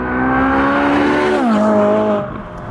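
Ferrari Speciale Aperta V8 with the roof off, revving loud and close with a rising harmonic whine that dips as it shifts, then climbs again before easing off near the end.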